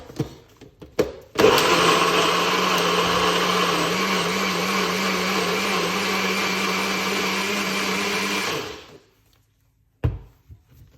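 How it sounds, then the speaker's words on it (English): A blender whirs loudly and steadily for several seconds with a churning, grinding tone while blending carrot, ginger, lemon and water, then winds down and stops, followed by a couple of soft knocks. "blend these 3 ingredients: carrot, ginger, and lemon and water"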